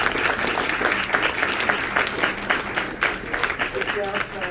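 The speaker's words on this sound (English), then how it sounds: "I would like for you to give them a rousing applause" Audience applause for four panelists at a monthly NGO meeting on climate change and women, a steady, moderately loud wash of clapping with a voice briefly heard near the end.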